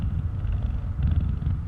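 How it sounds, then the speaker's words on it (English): A lion's purr from the video game That Dragon, Cancer, a deep, steady low rumble that throbs continuously throughout, close and moderately loud, with no voices over it. "it sounds like he's lion purring"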